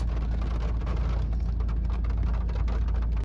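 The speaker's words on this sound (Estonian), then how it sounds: "Ja tuligi ära, hakkaski sadama päris kõvasti." Heavy rain drums on a car during a summer storm, heard from inside as a dense, steady patter over a deep low rumble, with no voices.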